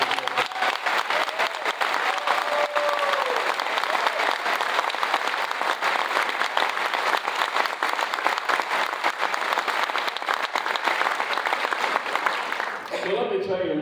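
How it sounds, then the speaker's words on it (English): Audience applause for members of a municipal band on stage during an evening tribute concert, loud, dense and sustained throughout before fading near the end. "Let's have a round of applause."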